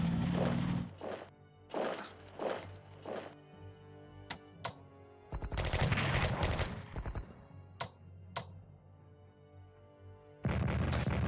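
Repeated booming salvos and blasts of naval bombardment in the Pacific strategy war game Strategic Command Pacific at the Battle of Okinawa, with bursts of loud impacts and a few sharp isolated bangs between quieter gaps.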